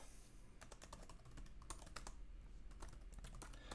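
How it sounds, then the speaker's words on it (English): Quiet, close clicking of keys on a computer keyboard, a brisk irregular run of taps that quickens in the second half, with no talking. "So I'm just going to type in image gallery project,"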